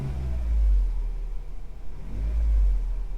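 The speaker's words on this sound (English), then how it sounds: "revving the engine" A Jeep JK with the 3.6 Pentastar V6 and an aFe Magnum Force Stage 2 intake is revved twice from idle, each deep, rumbling swell rising and falling close by with a low idle drone in between.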